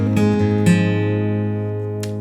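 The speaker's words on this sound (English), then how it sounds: "let me play you the second part of the introduction, the second phrase." A close acoustic guitar plays the second phrase of the intro to a song, with a few sharp picked attacks over ringing bass notes that slowly decay, alone without voices.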